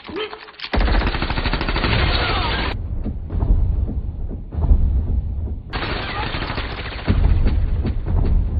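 Gunfire in the 2022 action film Ambulance: loud, rapid bursts of automatic shots and heavy booms in two dense stretches, with a quieter gap of scattered sounds between them.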